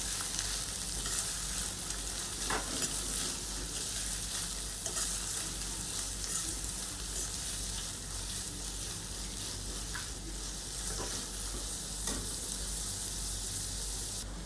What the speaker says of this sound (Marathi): माझा कांदा आहे तो गोल्डन ब्राऊन झालेला आहे